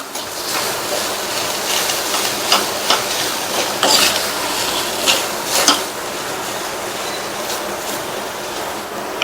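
Green gram being stirred with salt in a pan, a steady rushing sizzle under intermittent scraping and clinks of a spoon against the pan, loud and close.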